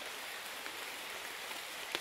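Steady rain falls through a hillside forest, a dense even hiss of drops on leaves and ground with no voices, and one sharper drop hitting close by near the end.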